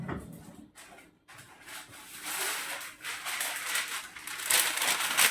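Paper crinkles and rustles as a sheet is laid down and smoothed flat on a kitchen worktop, soft handling sounds rising and falling.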